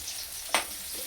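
Jackfruit and potato pieces fry in oil with a soft, steady hiss, marked by one sharp utensil clink midway through the short stretch.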